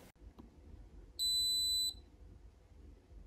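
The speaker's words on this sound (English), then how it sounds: "holding down the two buttons on the front of the device for 15 seconds until you hear a beep" A SwitchBot Hub 2 smart home hub gives a single sustained electronic beep of a little under a second as it resets, clear and close over a quiet room with faint background hum.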